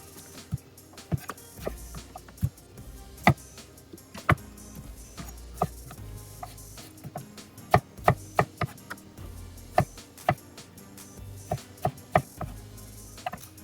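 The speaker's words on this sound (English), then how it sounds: "we now want to cut the strawberries" A knife slices strawberries on a cutting board while making a strawberry rhubarb pie, giving sharp, irregular chopping knocks close up with quiet gaps in between.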